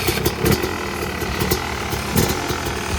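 A dirt bike fitted with a bubble wrap rear tire sits idling close by, its engine a rough, steady putter with a few small throttle surges.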